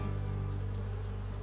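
Honey bees from a freshly installed package drone steadily around a hive, a dense continuous hum that stays close and even in loudness throughout, with no voices.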